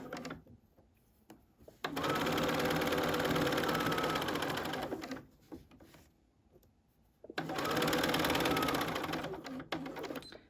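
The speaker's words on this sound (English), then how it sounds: "Back tack. Sew down the line." A sewing machine stitches a tote bag gusset in two long, steady whirring runs, each starting and stopping with short clicks, separated by a quieter pause.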